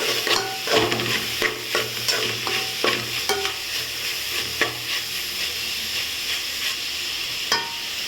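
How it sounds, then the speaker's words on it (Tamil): Ginger and garlic sautéing in a pan for beef pepper gravy, a steady sizzle with repeated scraping stirs of a spoon against the pan, close and alone. "இப்போ நம்ம கொஞ்சமாக இஞ்சி பூண்டு சேர்த்துக்கலாம் சேர்த்து நல்லா வதக்கிக்கலாம்"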